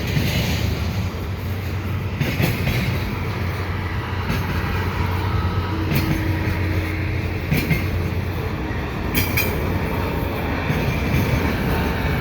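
A CN double-stack freight train rolls westbound past the Fenelon Street crossing in Dorval, a loud continuous rumble of wagons with periodic sharp clanks and bumps from the cars, close by and without talk.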